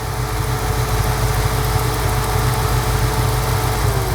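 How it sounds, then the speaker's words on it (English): A vehicle engine with a power steering problem idles and struggles, giving a loud, close, steady rumble with a constant drone throughout and no speech. "So raising the idle helps, but just at idle, it struggles."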